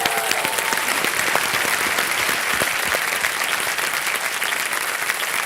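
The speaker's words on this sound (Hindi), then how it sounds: "एक बार जोरदार तालियां हो जाए इनके लिए" Enthusiastic applause from a KBC studio audience, a loud, continuous roar of many clapping hands with individual sharp claps standing out, sustained throughout and easing slightly toward the end, no talking over it.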